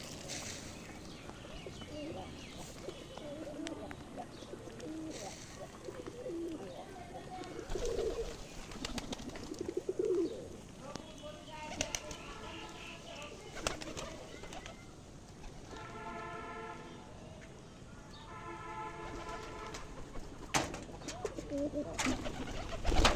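Pigeons coo repeatedly while eating feed, with soft rustling, pecking and occasional wing flaps around them; cooing swells and fades in a busy, close loft.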